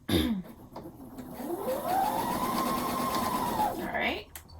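A home sewing machine stitching romper fabric runs in a steady whirring burst that rises in pitch, holds, then slows to a stop, close by, with a cough and small handling noises around it.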